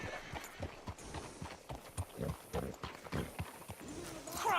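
Horse hooves clopping in a steady, uneven rhythm of soft thuds at a walking pace in the video game Red Dead Redemption 2, fairly quiet and close, with no talk over it.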